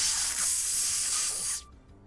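A voice imitates a sizzling computer with a steady, close hissing sizzle that holds for about a second and a half, then cuts off sharply into near silence.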